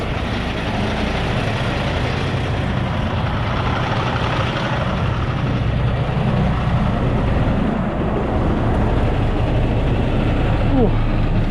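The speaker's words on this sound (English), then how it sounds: "we'll back up over there and get that trailer." A wrecker truck's diesel engine rumbles steadily as it reverses toward a trailer, a constant low drone throughout with a voice heard over it.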